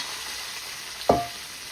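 Shallots and onions fry in hot oil for restaurant-style sambar, giving a steady low sizzle and then a single short clunk of a spoon or pan partway through.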